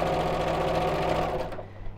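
Sewing machine stitching along the edge of towelling fabric for a turban, a fast steady mechanical whirr that runs close and loud, then slows and stops near the end.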